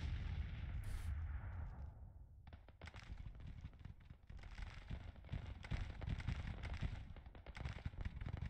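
Artillery fire in Grand Tactician: The Civil War, a Civil War battle game: a dense, crackling run of distant cannon reports and sharp bangs that starts after a quieter stretch and keeps going in rapid bursts.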